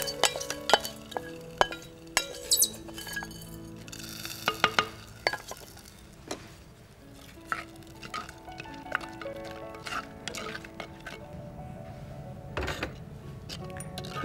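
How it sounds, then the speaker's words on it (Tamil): Hot tempering for a kuzhambu curry sizzles and crackles as it is stirred into the pot, with sharp spoon clinks against the vessel punctuating the steady frying hiss; no talking. "இப்போ இந்த தாளிப்பு நம்ம அந்த குழம்புல சேர்க்கலாம்"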